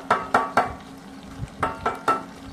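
Chopped onions cooking in a pan for beer chicken, with a series of short scraping stirs over a steady low sizzle, heard close with no talking.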